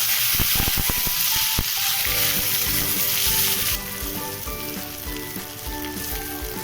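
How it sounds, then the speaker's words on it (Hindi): Eggplant pieces frying in a pan, with a dense, close crackling sizzle and some sharp spattering pops early on, then settling into a slightly softer, even hiss. "सारा बैंगन मैं डाल दी हूँ फ्राई होने के लिए।"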